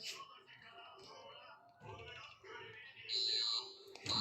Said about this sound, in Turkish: bir tane alarm çalıp yarım saattir